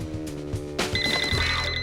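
A bright electronic ringtone from a phone inside a backpack starts partway through, repeating steady high tones over a busy musical background, sounding somewhat muffled and close.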